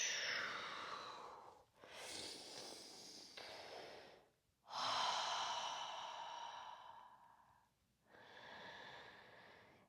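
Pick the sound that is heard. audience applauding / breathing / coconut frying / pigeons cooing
breathing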